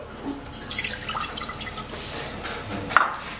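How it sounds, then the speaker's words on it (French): Water trickles and splashes into a pot in short, uneven pours, close by, with a brief clink near the end. "dans votre casserole, vous versez l'eau"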